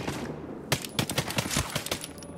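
Rapid pistol shots in Ghost Recon Breakpoint, a quick run of about a dozen sharp cracks within a second and a half, loud and close over steady game ambience.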